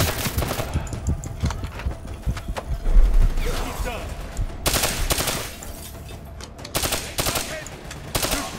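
Gunfire bursts from the Black Ops 3 campaign video game, sharp volleys and rapid shots coming in clusters over a busy game soundscape, with a person talking at times.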